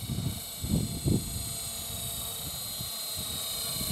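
A Roban MD500 Little Bird RC model helicopter flies a downwind pass, its rotor and motor giving a steady faint whine with a few short low throbbing bursts early on.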